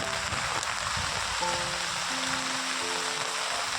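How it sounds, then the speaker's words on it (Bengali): Steady rain falls around a person walking under an umbrella during the monsoon, a constant close wash of drops with faint low tones beneath, no talking. "আর ভালোই বৃষ্টি হচ্ছে অনবরত।"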